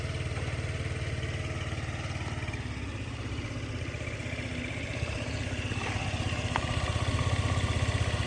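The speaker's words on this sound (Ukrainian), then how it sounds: "Він з японським акумулятором, дивіться, заводиться, працює." A Honda Tact AF-75 scooter from Japan, fitted with a start-stop system, runs at a steady close idle with an even, buzzy single-cylinder putter and light mechanical clatter.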